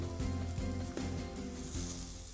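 Sliced vegan deli meat fries in a pan for a vegan Reuben sandwich, giving a quiet, steady sizzle with a few soft knocks and shifts, no voices.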